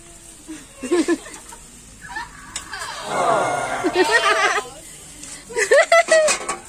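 A pig squeals in short, repeated bursts at a family party at a provincial home in the Philippines, with people talking and laughing around it.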